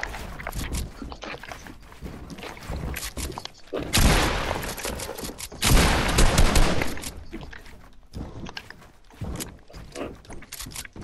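Gunfire in a one-on-one video game match: clustered shots and rapid bursts, with two louder sustained stretches of heavy firing midway, plus scattered thumps and faint voices in the background.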